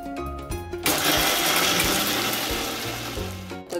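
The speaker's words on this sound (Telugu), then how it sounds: "కొద్దిగా వాటర్ పోసుకుంటా మిక్సీ పట్టుకోవాలి" A mixer grinder whirring through fresh coconut chutney with a little water, starting abruptly after a short pause and running as a loud, steady churning roar for a few seconds before winding down, with no talking.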